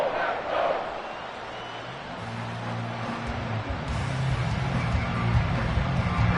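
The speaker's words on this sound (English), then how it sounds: "this crowd doing their best to make a lot of racket" A football stadium crowd cheers and roars during a game, a dense swelling din that builds toward the end, with a deeper rumble under the noise.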